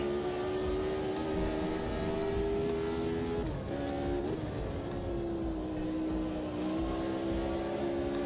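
Race car engine in a racing video game holding a steady high drone near the top of the rev range, with a brief dip and recovery midway, loud and continuous.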